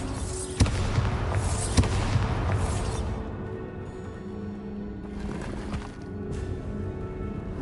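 Bombarda explosion spell in Hogwarts Legacy, with sharp blasts and crackling debris early on, then a rumbling, rattling tail that gradually settles into a quieter hum.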